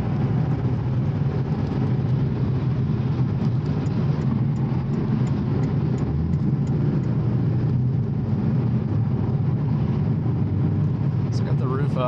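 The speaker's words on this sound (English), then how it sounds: "Now here's how this sounds on the freeway." A Porsche Boxster S cruising on the freeway with the roof up gives a steady, low engine drone and road rumble heard from inside the cabin, constant and unbroken throughout.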